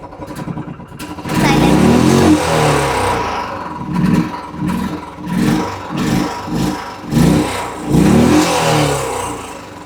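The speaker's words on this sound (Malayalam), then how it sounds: "വണ്ടിയുടെ സൗണ്ടും കാര്യങ്ങളെല്ലാം ആപ്പാട് മാറി കിടക്കുക നിങ്ങളിപ്പോ ഇത് കേൾക്കാം" A Royal Enfield Bullet motorcycle engine revs hard in a run of loud, repeated throttle bursts, each rising and dropping back, close up and dominating the scene.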